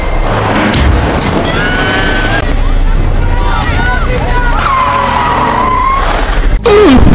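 In a film, a delivery car skids and strikes a person amid loud, busy street noise with tire squeals and a sharp impact near the end, mixed under shouting and talk.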